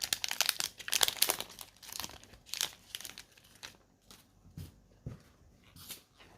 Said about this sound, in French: C'est pour ça que du coup, je les ouvre au ciseau